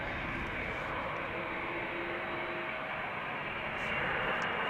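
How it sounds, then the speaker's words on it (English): A KLM Boeing 787-9 Dreamliner departing Amsterdam Schiphol on runway 36L, a broad steady engine roar filling the whole stretch and swelling slightly near the end, with no talk. "This is a Boeing 787-9 outbound to Mexico City, KLM flight 685."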